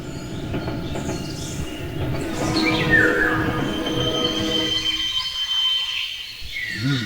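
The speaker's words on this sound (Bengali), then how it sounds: "এই যা ট্রেনটা হঠাৎ মাঝ রাস্তায় দাঁড়িয়ে গেল কেন রে" A train rumbles along with a rising metallic screech of wheels as it stops suddenly mid-route, the noise dropping away toward the end.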